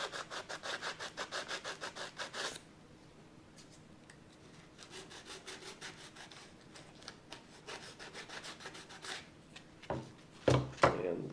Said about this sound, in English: we said that we had a little bit of sanding off to do in here